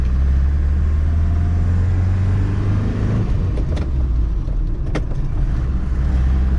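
A Mercedes-Benz 220 D diesel car drives along with a steady, loud low rumble of engine and road noise, close and continuous with no voices, plus a couple of brief sharp ticks partway through.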